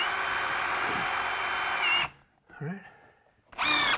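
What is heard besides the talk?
power drill driving screws into window track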